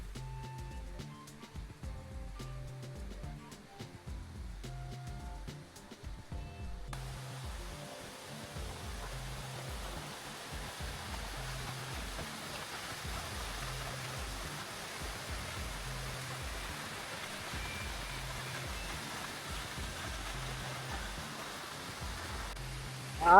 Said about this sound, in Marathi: हा इथे आपल्याला धबधबे बघायला भेटले दादा.